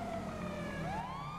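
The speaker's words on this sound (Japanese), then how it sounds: "うわぁ救急車。" An ambulance siren in the GTA video game wails steadily and loudly, its pitch sliding down and then sweeping back up over a constant rumble of game background noise, with no talking.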